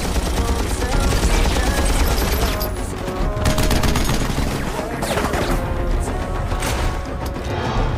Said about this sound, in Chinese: 能把手枪使成冲锋枪的也只有林浩特工了吧